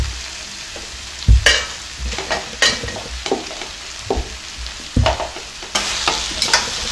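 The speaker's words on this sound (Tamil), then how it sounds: "நூடுல்ஸ் போட்டு கிளறும் போது கொஞ்சம் லோ மீடியம்ல வச்சு கிளறி விட்டுக்கலாம்." Vegetable noodles are stir-fried in a pan over low-medium heat: repeated scraping and clattering strokes of a spatula rise over a soft, continuous sizzle, close and without talk.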